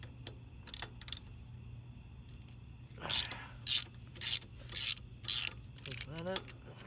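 A ratchet works loose a 6mm rear set bolt on a Moto Guzzi V9 Bobber motorcycle: several short bursts of clicking strokes in an irregular rhythm, close and fairly quiet over a low hum.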